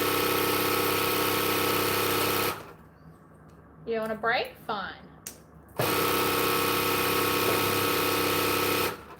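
An Empress sewing machine winds a bobbin with a loud, steady motor whir that stops for a few seconds while someone speaks, then starts again at the same pace.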